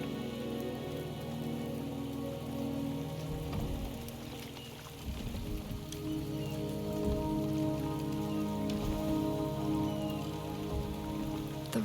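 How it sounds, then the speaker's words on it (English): Steady rainfall patters on surfaces in the video game Wuthering Waves, a continuous dense hiss with scattered heavier drops, close and even throughout with no voices. "The rain is subsiding, and the sky will soon clear."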